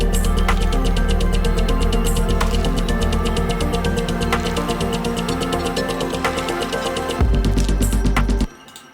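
The build-up in the drop pulses loud and dense, with a driving rhythmic electronic pattern and rising energy, then shifts briefly and cuts off abruptly near the end.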